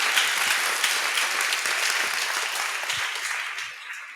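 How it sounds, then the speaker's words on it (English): An audience applauds after a university talk, a dense steady wash of many hands clapping that holds evenly for several seconds and thins slightly at the end. "let's applause"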